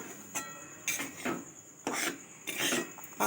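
Dry spice shells scraped and stirred in a pan with a spatula, giving four or five distinct rasping strokes with brief quiet gaps between, close and fairly soft.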